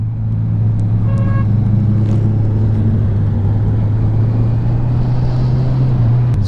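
Engine of a 2021 Honda CB650R motorcycle, a steady low rumbling drone that holds close and loud throughout, with a faint brief whine partway through.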